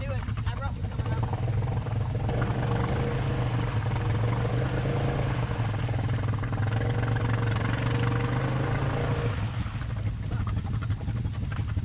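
An ATV engine revs and labours loudly through a mud rut at an off-road park, a steady low drone that rises and falls, while a voice shouts over it.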